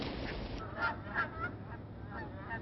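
Migrating geese give a handful of honks, spaced irregularly and faint with distance, over a soft outdoor background.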